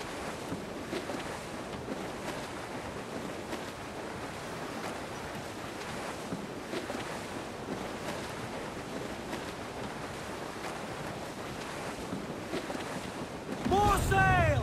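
Sailing ship in Assassin's Creed IV Black Flag cutting through ocean waves, with steady wind and surf noise throughout and a louder rush near the end.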